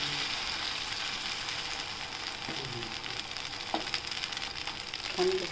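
Batter or oil sizzling and frying on a hot tava griddle while a rava-poha dosa cooks, a steady close crackling hiss throughout with a few soft clinks near the end.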